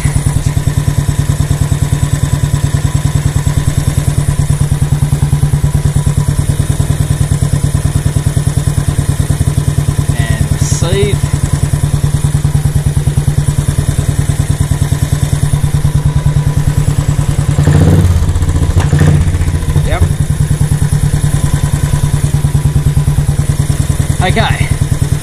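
A Royal Enfield Classic 500 with a Race Dynamics setup runs steadily close by, its engine thumping with mechanical clatter. A few louder thuds and revs stand out near the end.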